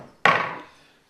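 A single sharp strike on a chassis panel held in a vise, from a hand saw or cutting blade, lands with a loud crack and a ringing metallic tail that fades over about a second.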